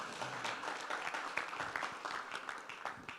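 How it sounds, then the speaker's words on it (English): An audience at a suppliers' forum claps for the organizers, a moderate, fairly distant patter of many hands holding steady for a few seconds with scattered sharper claps standing out. "please give them a very, very big hand clap."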